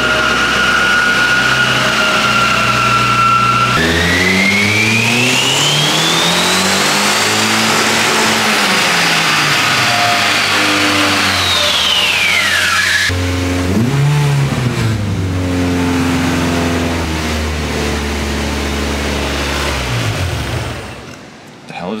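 A rear-wheel-drive Honda Civic engine on a dyno making a full pull, revving up hard with rising and falling pitch, cutting back and climbing again, loud and close throughout.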